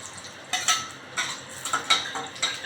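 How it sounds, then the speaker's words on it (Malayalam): Garlic being sautéed and stirred in sesame oil in a pan, close scraping and clinking of a utensil against the metal in repeated strokes over a faint low background, without talking. "വെളുത്തുള്ളി നല്ലോണം ഒന്ന് വഴറ്റി നല്ല മണം വരട്ടെ"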